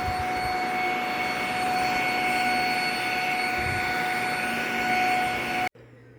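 A Shark vacuum cleaner drones loudly and steadily with a high whine as it is pushed slowly over a floor, running continuously before cutting off abruptly near the end.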